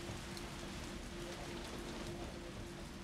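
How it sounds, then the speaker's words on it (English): Steady rain from the video game Resident Evil 3 Remake, a dense, even hiss of falling drops with a low hum underneath, continuous and without voices. "Like, sound design too. Like, the rain."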